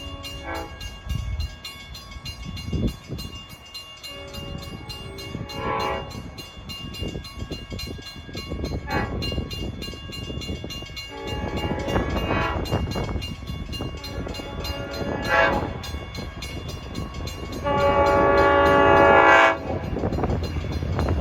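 Long Island Rail Road trains on the Montauk Branch sound their horns during the railroad's 190th anniversary: several loud, sustained multi-tone blasts rise over the rumble and clatter of passing cars, the longest near the end.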